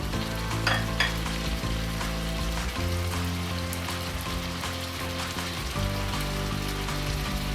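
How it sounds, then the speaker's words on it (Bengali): Pangash fish sautéing in a pan with oil and spices, a steady, close, loud sizzle with occasional stirring scrapes and faint background tones, no talking. "মাছটাকে কিছুক্ষণ কষিয়ে নিয়ে এর মধ্যে আমি আলুটা দিয়ে দেব"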